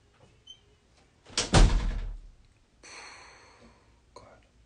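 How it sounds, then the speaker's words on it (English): A door is shut in an indoor room with one loud, sharp slam that rings briefly, followed by fainter rustling and quiet sounds. "Close the door."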